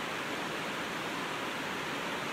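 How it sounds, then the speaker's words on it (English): Heavy rain pours onto a polytunnel, a dense, unbroken hiss drumming on the plastic roof, steady and enveloping throughout with no other sounds. "it started pouring with rain, so I had to rush into the polytunnel for shelter"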